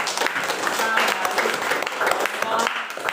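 Students in a classroom applaud a group, a busy wash of many hands clapping at once with some voices mixed in, steady and fairly loud throughout.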